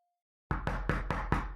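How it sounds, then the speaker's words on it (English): Five sharp, loud knocks strike a door in a quick, even sequence, close and resonant, after a moment of silence with a faint tone at the start. "That knocking does sound very real."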